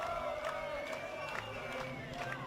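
A home football crowd roars and cheers a goal in an FFA Cup match, a sustained distant wash of voices under a commentator talking.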